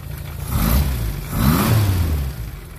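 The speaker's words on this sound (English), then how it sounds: "I did blow a hole in my muffler on this trip. Sounds a little louder." A car engine with a hole blown in its muffler runs close by, revving up twice in rough, loud surges with a throaty, slightly raspy exhaust note.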